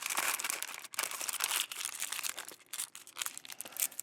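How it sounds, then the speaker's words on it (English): Aluminum foil crumpled and pressed tight over a piece of cured meat, giving a close, continuous crinkling with irregular bursts and short pauses. "Usually I put a piece of aluminum foil on top."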